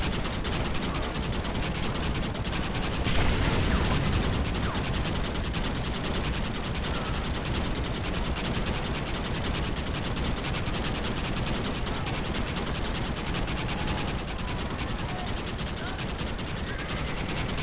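Machine gun fire in the Western video game Red Dead Redemption, a dense, continuous rattle of gunfire with explosions and battle noise, loud and sustained throughout without pause.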